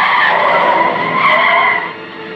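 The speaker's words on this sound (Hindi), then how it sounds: "कमल ने एकदम अचानक से बहुत तेज गाड़ी की ब्रेक लगाई।" A car brakes hard and skids, a loud sustained tire screech filling the whole moment before easing off slightly at the end, heard alone with no voices.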